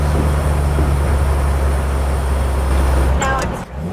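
Truck engine labouring up a hill under load, a steady low droning rumble with loud road and cabin noise throughout, easing off near the end as it shifts.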